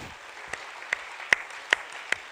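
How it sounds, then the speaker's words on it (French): Audience applause at a French science talk, a dense patter of clapping with a few louder individual claps standing out, moderately distant and steady for a couple of seconds. "et Marjorie Whitfield, sous applaudissements"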